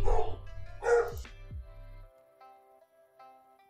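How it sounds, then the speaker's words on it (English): A dog barks in a few sharp bursts close by within the first two seconds, then the room falls nearly quiet apart from faint background tones. "my dog's going nuts"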